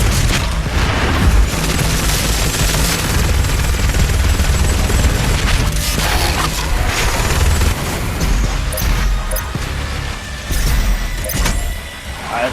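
Shotgun blasts and demon combat in the video game Doom Eternal, with dense, loud booming shots and explosions over heavy game music and rumble, continuous throughout.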